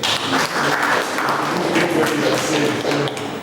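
A crowd at a university cyber school launch claps loudly and continuously, a thick wash of many hands close by that holds steady before easing slightly at the end.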